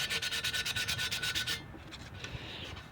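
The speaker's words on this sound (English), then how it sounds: "keep working on this for a little while. Sandpaper's nice." Sandpaper rubbed by hand on a differential cover in quick, rhythmic strokes for about a second and a half, then stopping to quieter scattered scrapes.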